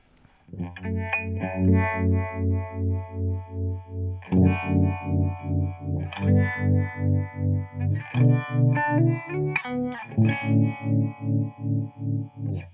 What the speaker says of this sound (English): nice and smooth harmonic trem there